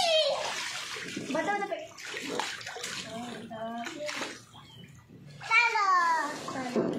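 A bathtub fills with running water for a child's bath, a steady gush beneath a woman's and a small child's chatter and babbling throughout.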